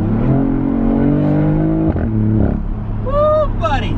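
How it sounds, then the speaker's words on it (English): A BMW i8 with a full aftermarket exhaust idles with a loud, steady engine drone, then revs, the pitch climbing sharply near the end. A person talks over it. "It's a full exhaust, but it's not obnoxious."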